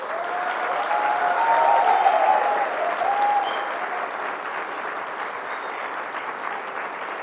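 Audience applause at a spiritist conference in Winterthur, Switzerland, a steady crowd clapping that swells early, then slowly thins and fades while continuing throughout.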